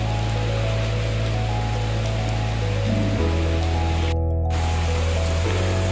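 Steady, loud hiss of rain falling on plants, continuous throughout with a low rumbling hum underneath and a brief dropout near the end.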